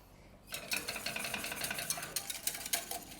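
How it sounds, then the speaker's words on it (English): Coconut cream caramel stirred in a hot pan: after a quiet start, a utensil scrapes and clinks against the pan in quick irregular strokes with a soft sizzling hiss underneath, close and moderately loud. "I'm going to stir all this in, and I'm going to stay with it."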